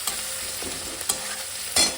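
Sliced onion fried in a pan with chili powder, turmeric and a little sugar is stirred, giving a steady close sizzle broken by three or four scraping strokes, the loudest near the end.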